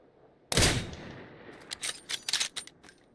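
A single sharp gunshot in a video game cracks out close and loud, its echo decaying over a second, followed by a string of quieter clicks and rattles.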